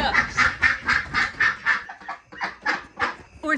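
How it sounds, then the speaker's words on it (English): Two geese and four ducks on a farm quack and honk in a rapid, rhythmic series of loud, close calls, with no talking. "we've got two geese and four ducks."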